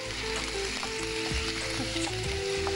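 Ground onion paste fries in a pan with a continuous, dense sizzle. A ratcheting, scraping rattle from utensils or a stovetop mechanism runs through it.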